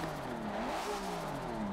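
A Nissan RB-engined S13 race car revs up and down, a rough mid-pitched growl rising and falling over a couple of seconds.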